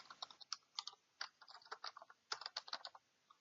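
Close, quiet clicking of keys on a computer keyboard while writing VBA code, irregular bursts of keystrokes with brief pauses, no voices.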